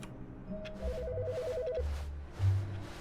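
An electronic phone ring in the video game The Stanley Parable trills in a short warbling burst, heard faintly over low background hum and a few soft thumps.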